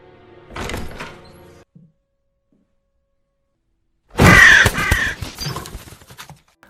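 A crow gives a harsh caw in an attic room, then silence, then a louder burst of rough cawing with thuds and scraping, close by in the enclosed space.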